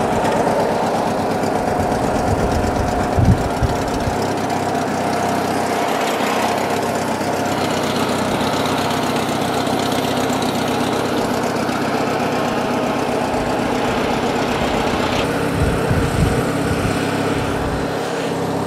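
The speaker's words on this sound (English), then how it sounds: "I got this twin cylinder lawnmower running in the neighborhood" A Craftsman LT1000 lawn tractor with a Briggs opposed-twin engine runs outdoors in a neighborhood, a loud, continuous lumpy drone with knocking pulses and slight rises in pitch as it idles and revs.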